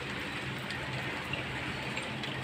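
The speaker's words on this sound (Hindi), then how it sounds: "अब तो थोड़ी सी तेज़ आई, नहीं तो सुबह तो हल्की हल्की हो रही थी बूंदाबांदी" Light drizzle falling steadily outdoors in the evening, a soft continuous hiss of fine drops with no voices, even and unbroken throughout.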